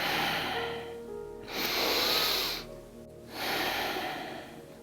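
During a gentle beginner yoga session, a person takes slow, deep breaths: two airy inhales close to the mic, each followed by a quieter exhale, in a calm, steady rhythm.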